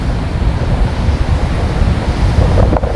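Strong surf and gusting wind at Burgess Beach in Forster, New South Wales, ahead of a big storm, with waves crashing continuously and wind buffeting the microphone throughout, loud and close, no voices.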